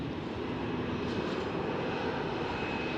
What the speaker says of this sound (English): Towards Tel Aviv, taking off on runway 24.